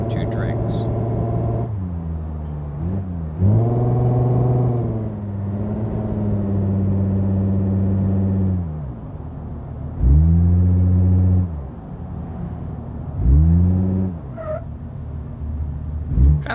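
Car engine in BeamNG.Drive revving hard and loud in several long surges, dropping between pushes, with brief lulls and a voice talking over parts of it.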